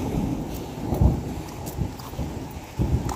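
Thunderstorm with rain falling steadily as several low rumbles and thuds of thunder roll through, fairly close and irregular.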